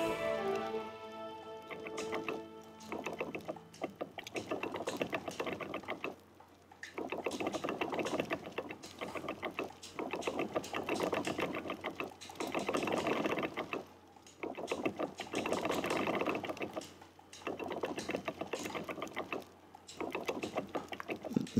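Crank handle being turned in the Escape Academy video game, heard as a steady mechanical ratcheting, gear-like clatter in repeated bursts with brief pauses, over a quiet tonal game background.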